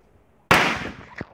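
A firecracker goes off with one sharp, loud bang after a quiet lead-in, followed by a crackling decay and a smaller pop just after.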